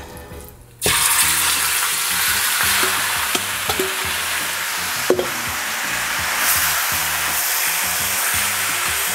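Beef steak, sirloin or rib eye, hits a hot pan over medium-high heat and bursts into a loud, sudden sizzle that holds steady, with a few light clinks of utensils.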